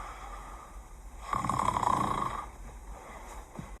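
A sleeping granny snoring: one drawn-out, rasping snore that swells for about a second amid a faint background hiss, then fades away, close and fairly quiet.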